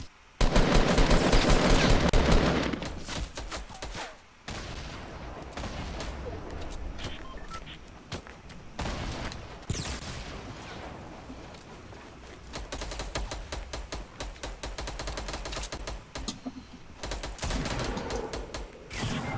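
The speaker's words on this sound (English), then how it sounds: "Yeah, they're shooting at us." Rapid bursts of automatic gunfire ring out during a Fortnite match, loud at the start and then in scattered volleys, with players talking over them.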